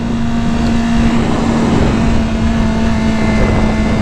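BMW S1000RR motorcycle being ridden, a steady loud engine hum with a constant tone and strong wind rush, unbroken throughout.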